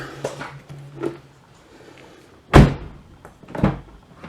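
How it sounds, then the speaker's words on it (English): A solid Infiniti car door shuts with a heavy thunk, followed about a second later by a second softer knock, in a quiet room. "Shut the door."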